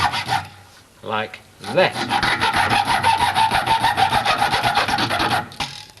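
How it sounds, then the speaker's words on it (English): A hacksaw cuts a V notch into a piece of wood in a steady run of quick, rasping back-and-forth strokes, close and fairly loud, after a brief voice. "use the hacksaw again to make a V"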